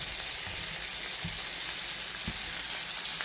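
Polska sausage sears in a skillet over medium heat, giving a steady, soft broadband sizzle with a couple of faint low knocks from the pan, alone and without talk.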